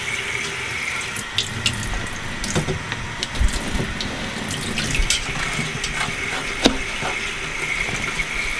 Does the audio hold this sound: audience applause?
no